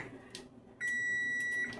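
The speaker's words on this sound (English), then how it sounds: "There was my timer." Kitchen timer beeping while molasses cookies bake, a brief short beep and then a single sustained, loud electronic tone lasting about a second, alone in a quiet kitchen.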